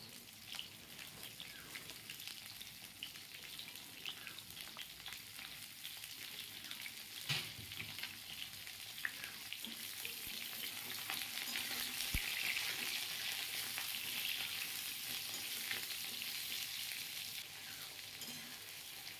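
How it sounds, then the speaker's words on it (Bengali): Cut pointed gourd (potol) fries in oil in a pan, giving a steady, soft sizzle like light rain, with occasional stirring clatter and the sizzling growing slightly louder midway; no one speaks. "ভালো করে ভাজতে হবে পটলগুলো"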